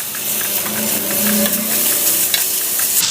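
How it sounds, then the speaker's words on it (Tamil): Chopped banana flower sautés in hot oil in a pan, a steady loud sizzle with soft scraping as it gets stirred, close and with no voices. "வாழைப்பூ ஆயிலில் நல்லா வதங்கி வரட்டும்."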